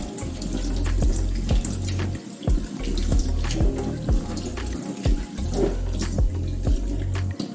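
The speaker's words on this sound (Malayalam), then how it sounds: "പിന്നെ നമ്മൾ വെള്ളം തുറന്നു വിട്ട് നാരങ്ങയുടെ പുളിരസമൊക്കെ പോകാനായി" Tap water runs steadily over fresh paneer curds in a cloth-lined strainer, rinsing off the lemon-juice sourness: a continuous close splashing stream with brief dips and surges, no voices.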